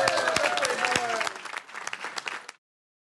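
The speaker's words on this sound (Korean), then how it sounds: "미국 국회의사당에 트럼프 전 대통령이 등장하자 의원들이 일제히 박수를 칩니다." Lawmakers applaud Trump's arrival at the US Capitol, a brisk burst of many hands clapping together with voices mixed in, fading over about two and a half seconds before cutting off.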